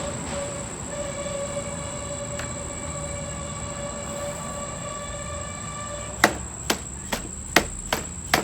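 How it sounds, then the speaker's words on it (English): Several sharp taps on the gearbox of a Husqvarna 128LD trimmer power head, about six close metallic knocks in quick succession after a stretch of steady tonal hum. "Let's give this a couple of taps."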